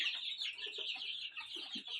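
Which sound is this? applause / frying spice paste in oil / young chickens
young chickens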